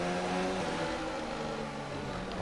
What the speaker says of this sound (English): Oh, this car sounds like a bag of nuts and bolts now.